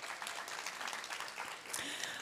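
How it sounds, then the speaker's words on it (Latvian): Audience applause at a European Parliament Ambassador School graduation ceremony in Latvia, a steady wash of clapping at moderate level lasting a couple of seconds, with a brief voice near the end. "Aplausi, lūdzu."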